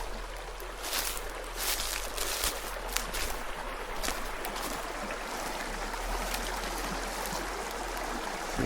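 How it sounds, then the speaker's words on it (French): A woodland stream with small waterfalls gives off a continuous rushing, splashing flow, steady and fairly close, with no talk over it. "On arrive à un ruisseau. Il y a même des petites cascades."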